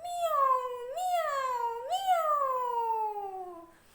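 A voice imitates a kitten meowing, giving three drawn-out, rising-and-falling meows in a row, close and fairly loud, with no other sounds around them.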